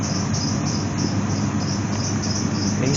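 A classic car engine idles with the air conditioning at max and the fan on high, giving a steady close rumble with a thin, pulsing high-pitched whine on top.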